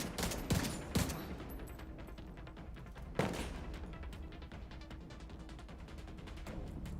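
Gunfire in the shooter game The Division 2, with a few sharp heavy shots and bursts of rapid fire over a dense, busy battle background, with no talking.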